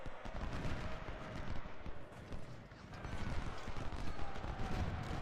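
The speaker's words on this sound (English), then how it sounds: "Nice little volley there." Musket volley in the Civil War game Ultimate General: Civil War, dense crackling gunfire rolling continuously under a busy battlefield din, with no distinct separate shots.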